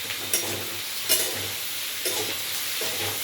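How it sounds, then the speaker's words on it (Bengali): Onions fry in a pan with a steady sizzle, while a spatula stirs them in four or five quick scraping strokes at a regular rhythm. "পেঁয়াজটা ছাড়লাম।"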